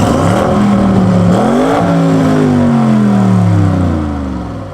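An Audi RS6 Avant with a new downpipe and tune and its rev limiter removed revs hard up close, rising, dipping and climbing again in loud gliding tones before easing off at the end.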